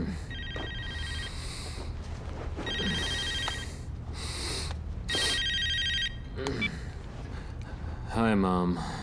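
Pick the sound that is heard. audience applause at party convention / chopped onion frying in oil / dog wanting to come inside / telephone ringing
telephone ringing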